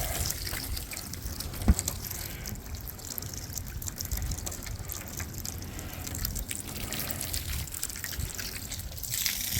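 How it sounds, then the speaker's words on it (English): A garden hose sprays water steadily onto a car, a soft continuous hiss and patter with a faint drip-like texture throughout, no talking. "So let me get the hose here."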